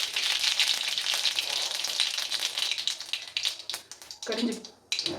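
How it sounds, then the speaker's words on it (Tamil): Mustard seeds spluttering in hot oil in a kadai while cooking South Indian lunch, a dense crackling sizzle with sharp pops running throughout, fairly close. "கடுகு பொரிஞ்சிடுச்சு"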